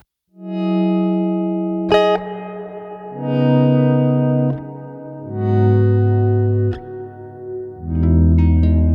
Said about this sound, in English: you hear an auto swell going into a reverb